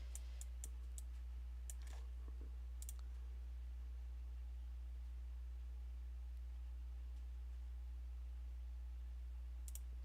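Several sharp key clicks on a computer keyboard while an Alt code is typed, a few quick taps at the start and a lone press near the end, over a constant low electrical hum.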